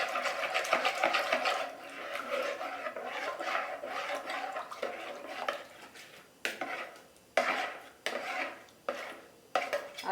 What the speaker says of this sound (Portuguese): Você vai mexer esse fermento com a água e o açúcar.